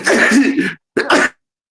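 Two loud, close sneeze-like bursts from one person come in quick succession with a brief silence between them.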